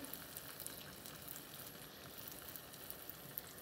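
Seeni Ariyatharam, a sweet, fries in hot oil with a soft, continuous bubbling sizzle and faint scattered crackles, quiet throughout.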